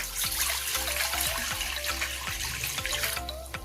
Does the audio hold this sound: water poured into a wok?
yes